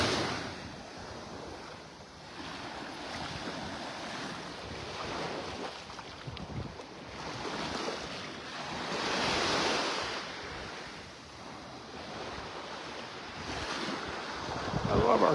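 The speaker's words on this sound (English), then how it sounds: "That beautiful mile-long stretch of beach." Ocean surf rolls onto a long beach in North Naples, Florida, with waves swelling and breaking in slow surges under gusty wind rumble on the microphone, no voices.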